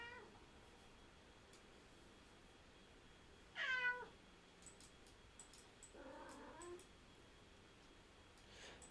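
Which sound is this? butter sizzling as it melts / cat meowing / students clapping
cat meowing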